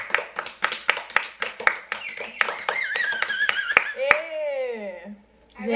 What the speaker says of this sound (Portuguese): Palmas pro Papai do Céu, pra mamãe.